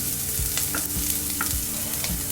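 Beans, capsicum, onion, carrot and green chili sautéing in a pan, with a steady sizzle and rhythmic scraping stirs about every half second, close and continuous with no voices.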